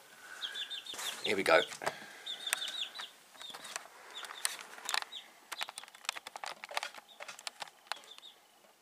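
A newly hatched dark chick from a white leghorn mother peeping in repeated high, thin chirps, fairly close, interrupted by handling noises and a brief spoken remark.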